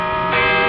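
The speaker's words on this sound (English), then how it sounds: "Those bells. At it again." Church bells ringing in a radio drama, a loud, sustained metallic tone with rich ringing overtones that swells slightly as a new strike joins in.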